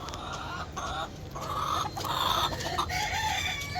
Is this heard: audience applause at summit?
no